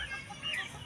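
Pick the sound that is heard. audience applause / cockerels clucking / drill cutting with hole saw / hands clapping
cockerels clucking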